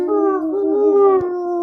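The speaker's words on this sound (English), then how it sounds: "And it's just howling and barking." Dogs howl together in a steady, sustained, mournful tone, close and fairly loud. No speech is heard.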